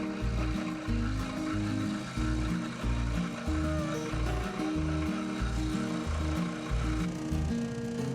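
A scroll saw cuts wooden pieces for a garden basket, its rapid buzzing chatter running continuously at moderate volume, with a rhythmic low thumping from the saw shifting on its table.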